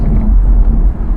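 Low, steady rumble of an Audi R8 V10 Performance Spyder's V10 engine at cruise, a dense loud drone heard from the cabin, brief and unbroken.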